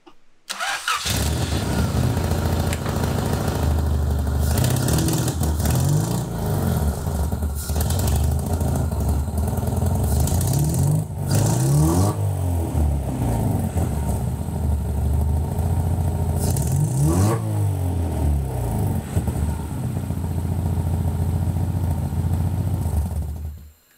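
A Honda Civic EF Si runs steadily throughout, its engine note holding a continuous hum with a few rising and falling rev sweeps, close and fairly loud with no talking.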